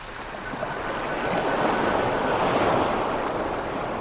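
Sea waves washing onto the shore at the seaside, a steady broadband rush swelling and easing with some wind across the microphone, continuous and close, with no voices.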